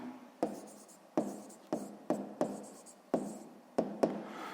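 Pen strokes scratch on paper while an equation is written out by hand for a sixth-grade math exercise, eight or nine quiet taps and scrapes in an uneven rhythm.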